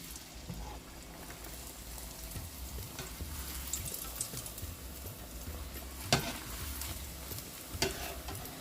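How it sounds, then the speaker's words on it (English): Trinidad doubles dough frying in hot oil gives a steady, soft sizzle and bubbling, with a couple of brief clinks or taps from utensils. No one speaks over it. "I'm gonna fry another one."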